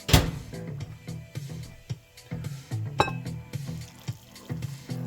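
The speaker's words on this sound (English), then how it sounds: "We're gonna add our 8 ounces of water." Eight ounces of water is poured for Yoko Street tonkotsu shoyu instant ramen, a close, uneven splashing and gurgling stream with bubbly, irregular bursts.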